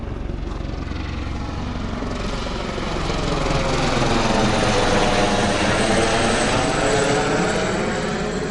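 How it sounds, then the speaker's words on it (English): A military helicopter passing over an RV campsite, its rotor thump and engine roar swelling from a distant rumble to a loud, steady overhead drone. "Sometimes those military helicopters come over."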